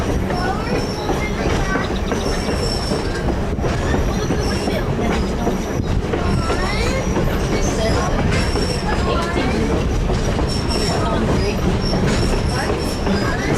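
Loud, continuous rumble of passenger train cars rolling on rails on a South Simcoe Railway diesel excursion train, with rhythmic clatter and occasional squeals from the wheels, heard from on board.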